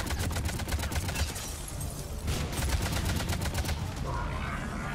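Rapid shotgun blasts from the video game Mass Effect 3, a dense run of sharp, close reports fired in quick bursts over steady game noise with a brief lull midway.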